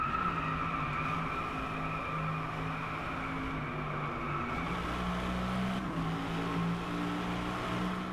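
An Aston Martin Vantage V12S with a 620-horsepower engine accelerates on a Japan track in the Driveclub racing game, its sustained engine drone climbing in pitch through gear changes with faint tyre noise underneath.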